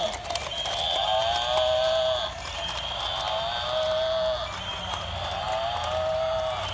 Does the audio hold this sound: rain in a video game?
no